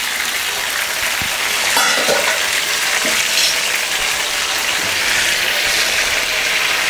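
Large pieces of eggplant frying in a pan, a loud continuous sizzle with occasional stirring scrapes and crackles, close up and with no talking.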